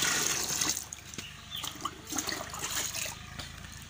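Medicine powder is mixed into drinking water for broiler chicks, giving soft trickling and sloshing water sounds, fairly faint and close.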